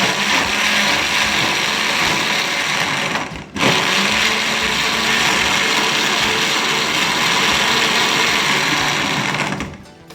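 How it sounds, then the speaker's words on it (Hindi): Electric grinder with a jug jar blending pomegranate juice, a loud steady whirring roar running nearly the whole time, cutting out briefly once and then starting again before winding down at the end. "कवर करने के बाद मैं इसको ग्राइंडर मशीन से इसका जूस निकालती हूँ"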